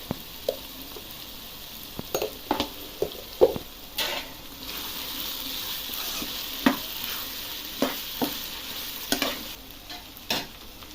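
Chicken curry with chopped tomato and chili powder frying in a pan, a steady close sizzle broken by repeated scraping stirs of a spoon against the pan, with no talk.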